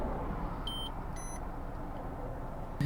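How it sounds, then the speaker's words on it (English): Two short, high electronic beeps from an MPH Ranger EZ radar gun, each held about a fraction of a second, ring out over a steady low rumble of road noise. "the radar gun started beeping"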